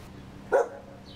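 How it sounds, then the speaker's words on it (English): A single sharp bark from a stray dog near an abandoned, blown-out house in the Highland Park neighborhood, brief and somewhat distant over low background hum. "You can hear one of the dogs right now."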